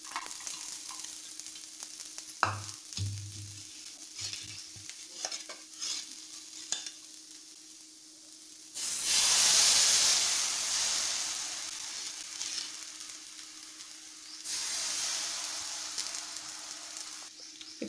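Rava dosa batter with onions sizzles on a hot pan amid scraping and stirring, then two loud hissing surges of frying, each lasting several seconds.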